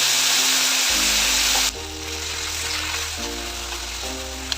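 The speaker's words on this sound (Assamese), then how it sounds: "এখন পেনত তেল অলপ দিছোঁ, গোটা জিৰা দিছোঁ, মিহি মিহিকৈ কাটি লোৱা আদা দিছোঁ আৰু এক্সট্ৰাকৈ ৰাখি থোৱা আলুখিনি দি দিছোঁ" Potatoes, whole cumin seeds and finely chopped ginger hit hot oil in a pan, setting off a loud, steady frying sizzle that settles into a lower, continuous crackle with faint tonal hum underneath.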